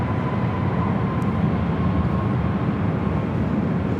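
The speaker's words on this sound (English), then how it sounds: "This takeoff is Southwest Airlines 2106 taking off to Oakland on the MAX 8." A Southwest Airlines Boeing 737 MAX 8 taking off at LAX, heard as a steady, broad roar of jet engines holding level throughout, with a faint whine riding above the rumble.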